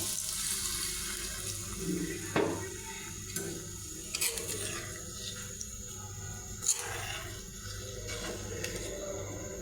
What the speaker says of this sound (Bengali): গরম পানিটা দিয়ে দেব